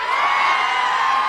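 A large crowd at a political rally in Adilabad keeps up a loud, continuous roar of shouting and cheering, dense and unbroken.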